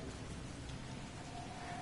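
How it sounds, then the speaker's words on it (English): Steady rain hiss in Resident Evil Revelations 2, a constant broadband wash of falling drops with no distinct thunder, even and unbroken throughout. "Here comes the rain."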